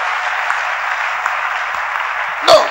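A church congregation applauds together, a steady, loud wash of clapping that holds evenly for a few seconds before a brief bump of noise at the end.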